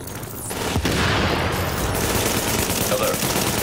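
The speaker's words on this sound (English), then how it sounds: "Reporting gunfire in the station above us." Dense, sustained burst of rapid video game gunfire from The Division with booming low rumble, loud and continuous throughout, like a busy battle scene in a station.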